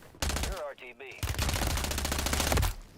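Gunfire in the Warzone shooter game, with two dense bursts of rapid automatic fire, a short gap and a faint voice between them, then a long sustained loud volley.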